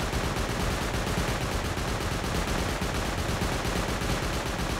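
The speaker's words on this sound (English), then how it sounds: "Maybe an auto turret or something? No, it's probably a M249?" Sustained automatic gunfire from an M249 light machine gun or an auto turret in the survival game Rust, a loud, dense, unbroken stream of rapid shots filling the whole stretch.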